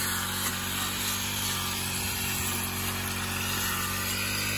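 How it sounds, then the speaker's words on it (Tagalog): A grass cutter runs steadily on a mulberry farm during cleanup, a constant motor drone with a buzzing whine that holds an even level throughout, no speech. "si Tatang nagga-grass cutter."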